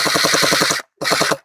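A gel blaster toy gun fires gel balls in rapid full-auto bursts, one long burst followed by a short pause and a second shorter burst, close and loud with a fast mechanical rattle.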